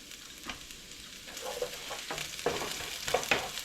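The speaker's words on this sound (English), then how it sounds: "now put some more olive oil, about 2 teaspoons this time. Put the garlic in." Garlic fries in about two teaspoons of olive oil in a pan, a close, steady sizzle that builds and thickens, with scattered stirring scrapes and taps, no voices.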